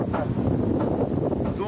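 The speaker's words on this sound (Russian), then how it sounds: "Долбанный ветер задрал" Wind buffets an outdoor microphone in low, rumbling gusts while someone talks underneath.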